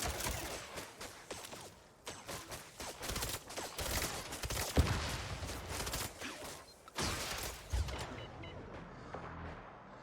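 Dense gunfire from the game Mindseye, a fairly faint, continuous clatter of rapid shots with a few sharper cracks over the whole span.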